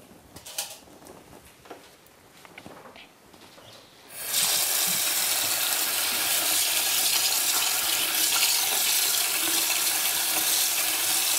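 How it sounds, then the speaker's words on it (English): Rice being washed under a kitchen tap: faint handling and trickles at first, then the tap opens into a loud, steady rush of running water that continues to the end. "I'm going to take that rice over to wash it while I'm waiting for my mixture to boil."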